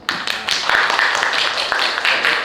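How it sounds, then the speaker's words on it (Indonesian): Classroom applause for group 3 during an economics lesson: a dense, steady wash of many hands clapping throughout, fairly loud and close, with no break. "Maka untuk kelompok 3 kita berikan applause"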